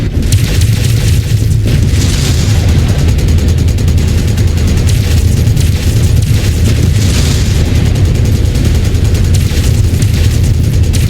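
Heavy explosions from MechWarrior 5 mech combat rumble continuously, dense and loud, with layered booms and bursts rolling over one another for several seconds without talk.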